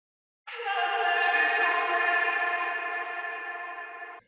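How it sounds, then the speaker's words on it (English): A reversed vocal sample drenched in long reverb for a future bass track, a smeared, sustained tonal wash that swells in abruptly and holds steady before cutting off. "a reverse vocal like this"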